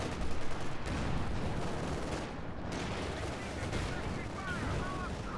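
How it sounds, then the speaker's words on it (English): Panzer IV tank cannon and machine-gun fire in the World War II strategy game Company of Heroes 2, a dense, loud barrage of booming shots and rattling gunfire that stays steady throughout with no quiet gaps. "Panzer IV opening fire on the infantry, pushing them back slowly but surely."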